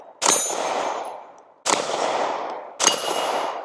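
A suppressed handgun built on a brown Lone Wolf DUSK19 frame fires three loud, sharp shots about a second and a half apart, each followed by a ringing, decaying tail.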